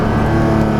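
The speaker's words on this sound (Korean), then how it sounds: "스포츠 플러스 모드로 바꾸고 엑셀레이터 페달을 살짝 밟아보니까" A Porsche 718 Boxster GTS 4.0 flat-six engine revs in Sport Plus mode after a light tap of the throttle, a loud, close, sustained engine roar with a dense harmonic drone. The burst is short and heard alone.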